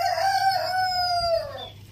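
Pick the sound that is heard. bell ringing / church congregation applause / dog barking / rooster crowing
rooster crowing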